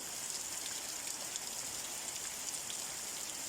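Heavy rain pours down in Xiangkhouang, a dense, even hiss of falling water with scattered droplet patter that continues unbroken, with no voices.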